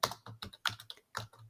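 Keys on a computer keyboard are typed in quick, uneven bursts of clicks, close and clear, with short pauses between the groups of strokes.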